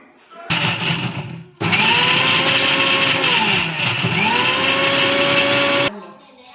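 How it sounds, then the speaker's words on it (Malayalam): A mixer grinder blending chillies whirs loudly in two bursts, a short run then a longer steady blend, its motor pitch dipping and rising before cutting off. "നമ്മൾ ഇനി മിക്സിയിൽ അരച്ചിട്ട് വരാം"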